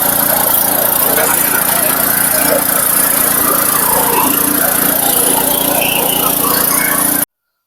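A farm vehicle's engine runs steadily nearby, a loud continuous mechanical drone with a fault of slow movement in second and third gear, then cuts off abruptly near the end.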